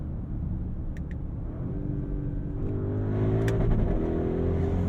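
A 2023 Audi RSQ8's V8 engine revs hard while driving, a loud, close, steady rumble whose pitch climbs with acceleration, with no talking.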